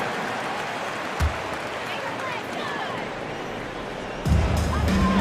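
Dense arena crowd noise from a basketball video game, a steady roar of cheering and applause with a swell near the end as the Blazers fans are hyped during a Heat–Blazers matchup.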